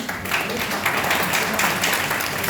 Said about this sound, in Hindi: तो ताली किसके लिए लगनी चाहिए?